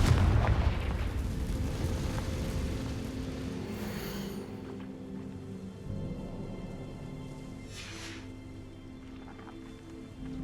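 A Confringo fire spell explosion in Hogwarts Legacy: a loud, deep booming blast at the start that rolls out into a long rumbling decay, with a couple of fainter hissing bursts trailing after.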